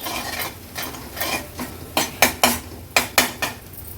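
Ground masala paste sautéed in oil for matki misal, with a spatula clanking and scraping against the pan in repeated knocks over a low sizzle.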